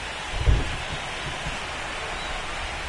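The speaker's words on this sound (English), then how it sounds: "It feels like we might be headed towards a rain delay if the weather doesn't ease up, Chris." Steady rain and a low rumble of thunder in the baseball video game MLB The Show 25 during a playoff game, a soft continuous wash with one brief low boom near the start, no talk over it.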